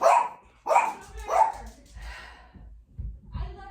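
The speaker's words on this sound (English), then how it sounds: "It's the dog." A dog barks three times in a quick, loud series close by, then gives softer whimpering yips. Someone talks briefly near the end.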